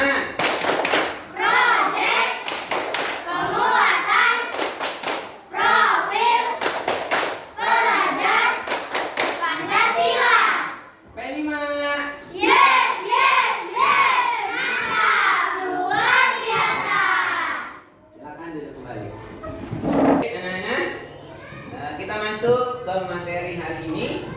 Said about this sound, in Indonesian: Oke, tepuk P5.